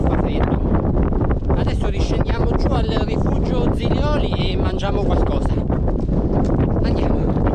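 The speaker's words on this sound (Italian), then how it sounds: "purtroppo tira vento e fa freddo" Strong, cold December wind buffets the microphone in a steady roar near the summit of Monte Vettore in the Sibillini mountains, with voices talking through it.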